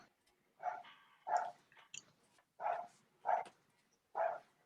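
A dog barks five or six times in an uneven series of fairly loud, close woofs, with short gaps between them and no talk.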